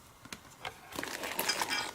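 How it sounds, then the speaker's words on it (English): Large decorative glass gems clink and knock against one another in a few quick, bright bursts, faint at first and then livelier toward the end, with no talking over them. "I've got these decorative glass gems, and they're pretty big."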